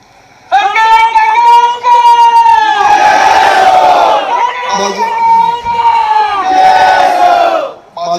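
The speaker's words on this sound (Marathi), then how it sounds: "समोर गर्दी आहे, डाव्या हाताला गर्दी आहे, पलीकडे गर्दी आहे, स्टेजच्या मागे गर्दी आहे." A large crowd at an election rally roars and cheers loudly in sustained bursts with whistles and shouts, sounding dense and close, with a short pause between waves of noise.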